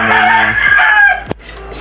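A rooster crows loudly and close behind a house, a long harmonic call filling most of the clip, followed by a sharp knock and quieter clucking.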